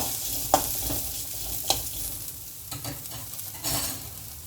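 Onions frying in a pan for Chettinad-style mutton meat balls, a soft continuous sizzle with occasional sharp spatula scrapes, close by and without voices.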